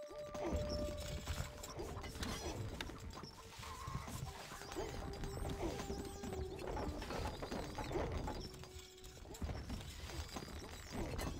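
Horse hooves clatter in a medieval strategy game, Stronghold: Crusader, mixed into a busy layer of game sounds with mechanical clanks and tonal effects running throughout.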